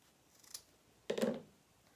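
Scissors cutting through a piece of jute twine, a faint snip followed by one louder, close crunching cut, alone in a quiet room.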